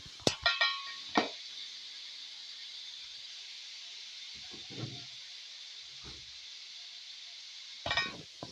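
Sliced vegetables with ginger garlic paste fry in a pot for vegetable pulao, a soft steady sizzle and hiss broken by a few clinks and scrapes of a stirring spoon.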